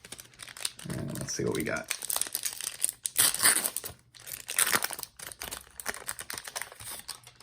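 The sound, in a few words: ripping open a 1992 Upper Deck baseball card pack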